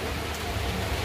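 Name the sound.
heavy rain falling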